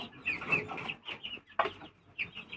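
Farm chickens cluck at feeding time near a coop, with grey hens and guinea fowl about: bursts of clucking and chattering calls, fairly close, with short pauses between.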